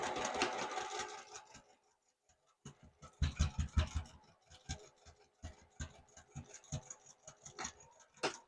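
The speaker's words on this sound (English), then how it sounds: "So just bring those up and align those sides and stitch from the top to the" A sewing machine stitches the side seam of a fabric desktop caddy made from 6-inch squares, running in short rhythmic bursts with pauses between, moderately close.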